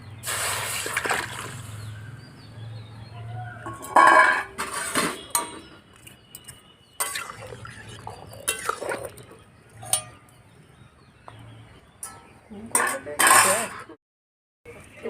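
Salted, turmeric-soaked jackfruit tipped into a cooking pan with metal clatter, scraping and splashing bursts, intermittent and close, fading to quiet near the end.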